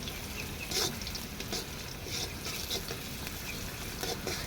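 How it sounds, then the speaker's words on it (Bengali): Sliced onions fry steadily in hot oil until turning light brown, a continuous crackling sizzle broken by a few louder bursts of stirring, close by and with no talk. "এবার দিয়ে দিচ্ছি পেঁয়াজ। পেঁয়াজটাকে ভেজে হালকা বাদামি কালার করব।"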